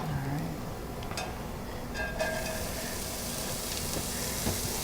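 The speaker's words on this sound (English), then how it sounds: "So our garlic is sizzling. Let's put the leeks in there." Steady sizzling of garlic and leeks in a hot pan, a continuous crackling hiss with faint clinks and stirring, no talking.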